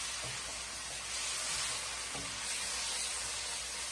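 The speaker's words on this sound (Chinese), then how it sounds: "大约翻炒20秒左右， 把所有的调味料炒至化开" Pork belly and celtuce stir-fried with seasonings in a hot wok, giving a steady, loud sizzle and hiss throughout with a few faint scrapes of stirring, no voices.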